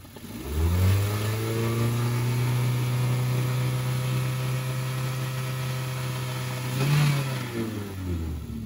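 A car engine revs up and holds a steady high drone for several seconds, then surges again briefly before easing off, with no talking.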